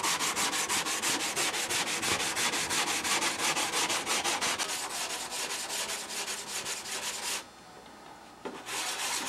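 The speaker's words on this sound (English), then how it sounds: "When you're sanding fiberglass, it's not like sanding balsa." Steady, close back-and-forth rubbing of sandpaper over fiberglass on a model plane wing, continuous strokes filling the clip with a brief pause near the end before the scraping resumes, no talking.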